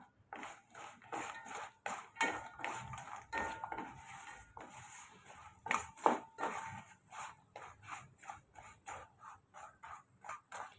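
A spoon scrapes and clatters around a pan as a wheat flour snack with cardamom is stirred, a steady run of close metallic scrapes and knocks with no talking.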